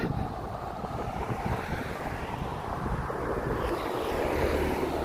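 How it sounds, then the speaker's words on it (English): Steady, heavy wind in Lowestoft, England, buffeting the microphone with low rumbling gusts throughout, loud and continuous, with no voices. "Sorry about the wind, guys."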